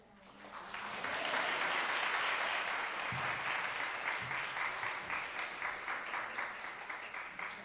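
Church congregation applauding during a service, a dense sustained clapping that swells in the first second and holds steadily, with a faint voice briefly under it.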